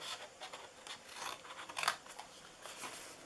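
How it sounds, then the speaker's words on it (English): Large scissors cut through paper for a holiday treat box: a few close snips and slicing strokes in a quiet room, with one sharper cut near the middle. "I'm going to use my large scissors here"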